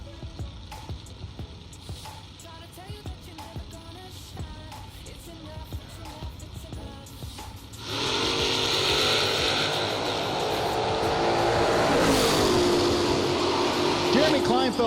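A 1971 Dodge Demon drag car with a 603 engine roars down the strip at a St. Patrick's Classic drag race, a loud sustained engine blast after clicking, ticking mechanical sounds and nearby talk.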